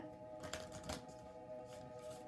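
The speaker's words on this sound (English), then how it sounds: "I already pre-shuffled, but I'm just going to give it a couple goes." An oracle card deck is shuffled briefly by hand, giving a couple of soft riffling bursts that are quiet and close, with no talking.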